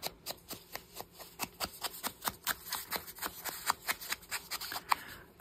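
Paper being trimmed with scissors for a craft project, a quick steady run of soft close snips repeating without pause.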